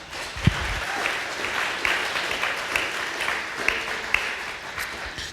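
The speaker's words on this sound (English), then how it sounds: "I want to give her another round of applause." Audience applause at a Tacoma City Club conversation event with the mayor, a steady wash of clapping from a room full of people, sustained throughout with a few sharper individual claps standing out.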